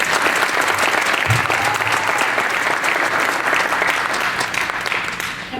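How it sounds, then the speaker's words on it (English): An audience applauds at a city inaugural ceremony in Hamtramck, loud sustained clapping from many people throughout, easing slightly toward the end, with no speech over it. "Let's give them a round of applause."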